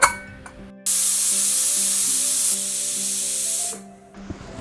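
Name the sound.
pressure cooker steam hissing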